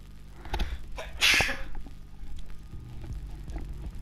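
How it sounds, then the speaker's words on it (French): A single sharp sneeze bursts out about a second in, loud and close, over low room hum, with faint small knocks before and after. "Je vais éternuer à tout moment"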